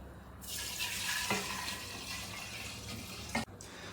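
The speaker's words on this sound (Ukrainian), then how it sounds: "Ну і тепер додаємо наш спиртовий розчин, який вже закінчив реакцію" Alcohol solution poured into a jar of Asian-style tincture, making a steady liquid rush and splash that runs for a few seconds and cuts off with a short clunk near the end.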